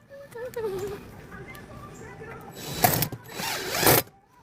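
Two-inch screws are driven to tack down a Homeshade umbrella base on a homestead deck, giving two loud bursts of ratcheting, grinding drive noise near the end after quieter talk.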